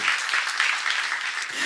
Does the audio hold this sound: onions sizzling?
no